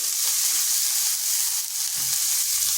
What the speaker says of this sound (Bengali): পেঁয়াজটাকে হালকা ভেজে নিচ্ছি। দিয়ে দিচ্ছি গ্রেট করা রাখা রসুন